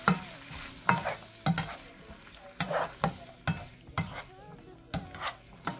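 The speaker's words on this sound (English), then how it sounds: "now I'm going to mix this all together" Spoon stirring pinto beans and hamburger meat in a sizzling pan, with regular scraping strokes about twice a second over a steady frying hiss, close and clear.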